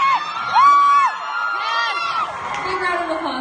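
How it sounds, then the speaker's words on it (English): Audience at a lecture at UCR cheering and whooping, with high rising shouts and excited voices building into a brief burst of crowd noise that settles into scattered chatter. "Big round of applause."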